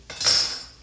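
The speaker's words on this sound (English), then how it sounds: "Grab the scoop and my flipper." A kitchen scoop and a flipper are picked up from a cooking area, giving a short metallic clatter of utensils that swells and fades within a second, close by with no talk.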